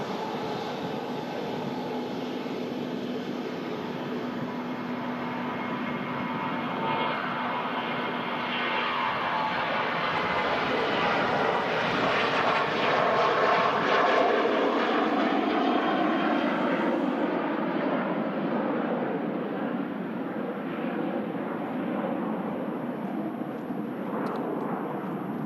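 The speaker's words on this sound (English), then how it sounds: "KLM on the way back out to Amsterdam." A KLM airliner departing Manchester Airport for Amsterdam, its jet engines roaring in a long sustained rumble that swells as the aircraft passes, then slowly fades into the distance.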